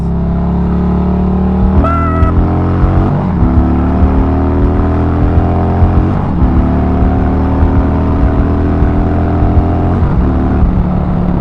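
A motorcycle engine drones loudly and close, rising through gears with climbing pitch as it accelerates, with steady road and wind rumble underneath.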